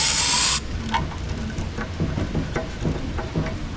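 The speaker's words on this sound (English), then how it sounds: "Spray a bit of solvent inside it." A short, loud hissing burst of solvent is sprayed into a damaged thread on a 1943 StuG III ZF gearbox. The burst lasts about half a second and is followed by quieter clicks and taps of handling nearby.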